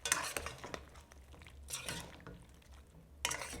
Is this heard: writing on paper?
no